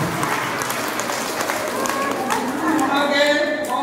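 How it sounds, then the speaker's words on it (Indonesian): Church congregation at a parish sermon breaks into steady applause, dense clapping filling the space with a few voices mixed in. "Tepuk tangan untuk yang dagunya panjang."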